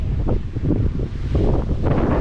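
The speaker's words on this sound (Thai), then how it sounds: "พี่น้องฟังเสียงลมนะครับโอ้ลมเย็นดีดี" Wind gusts across the microphone at a mountain viewpoint near Toyohashi, Japan, a continuous loud roaring rumble with uneven swells and no voices.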